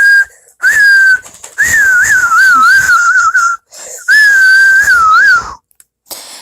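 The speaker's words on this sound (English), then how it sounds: "He whistled all the way there." A person whistles a bright, warbling tune in a few short phrases separated by brief pauses, close and loud.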